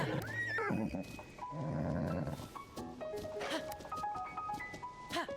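A horse whinnies and snorts in The Legend of Zelda: Tears of the Kingdom, with hoofbeats and game music and effects layered around it at moderate volume.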